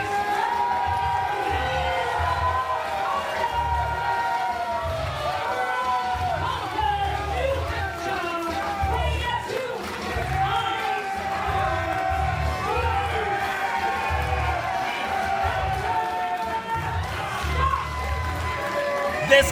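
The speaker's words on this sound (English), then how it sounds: "This crowd, man, always gets them hyped up." A wrestling arena crowd cheers for Scott Reed's entrance, a sustained roar with whoops and shouts under an announcer talking over it throughout.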